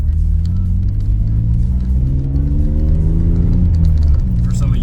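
A Jeep fitted with a PowerStop big brake kit accelerates on a test drive, its engine rumbling loudly and rising steadily in pitch, heard from inside the vehicle.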